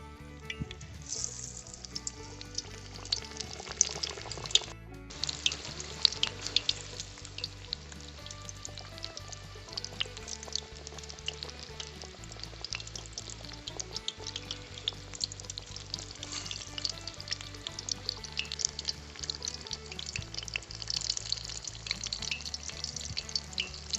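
Pumpkin pakora batter deep-fries in hot oil, a dense, constant crackle and sizzle with rapid popping, close and sustained throughout.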